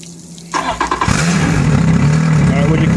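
An engine on a 2013 Xpress boat, with water running to it, cranks and fires up, then settles into a loud, steady idle close by. Voices are heard just before it starts.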